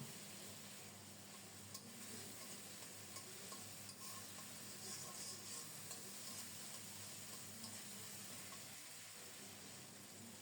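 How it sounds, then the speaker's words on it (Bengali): Spice paste with salt and water is stirred and sautéed in a pan over medium heat, a faint, even sizzle with soft stirring scrapes and no talking. "ভালো করে মশলাটাকে কষিয়ে নেব"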